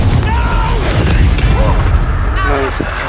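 Spell explosions in the Hogwarts Legacy PC game: a rumbling, continuous mix of booms, bursts and crackling magical effects, loud and busy, with whooshing tones layered over the low rumble.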